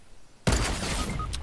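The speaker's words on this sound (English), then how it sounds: "He sniped me." A single loud sniper rifle shot in Fortnite cracks suddenly out of near quiet, followed by a dense burst of noisy echo and debris that rings on for about a second.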